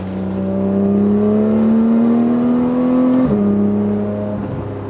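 A Porsche 991 GT3 exhaust fitted with an FVD Brombacher side muffler, valve delete and OEM center muffler revs up, its loud, steady engine note climbing smoothly before dropping sharply and settling near idle.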